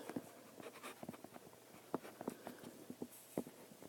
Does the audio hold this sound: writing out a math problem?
yes